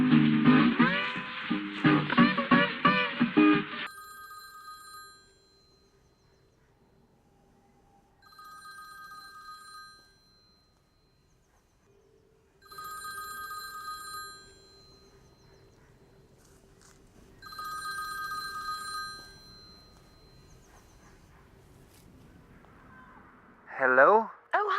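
A mobile phone rings in repeated electronic bursts after a loud stretch of music stops, with quiet gaps between the rings and a brief rustle near the end.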